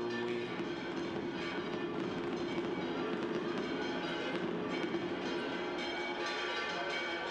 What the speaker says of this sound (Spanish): Esos cohetes que ya han transmitido ese mensaje